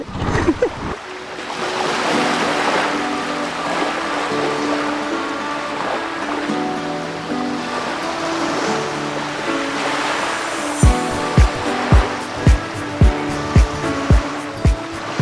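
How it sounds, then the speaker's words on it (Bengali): Big ocean waves break at Digha beach after Cyclone Asani, making a loud, continuous rushing roar. Near the end, a series of regular sharp thumps cuts through it. "কিন্তু দেখো বুদ্ধ পূর্ণিমার জন্য কি ঢেউ আসছে"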